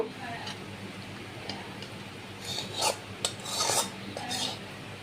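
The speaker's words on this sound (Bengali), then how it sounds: "এখন আমি কষিয়ে নেওয়া চিকেনটা দিয়ে দেব" Sautéed chicken is tipped into a pot of nearly cooked rice for chicken tehari, with faint scraping and utensil clatter against the pot over a low kitchen background.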